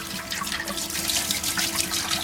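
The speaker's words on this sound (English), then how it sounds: "So here we go, another gallon, tap water" Steady broadband rush of tap water running and splashing into a gallon container, continuous and close, with no voices.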